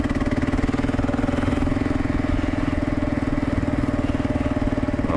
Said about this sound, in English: First gear, second gear.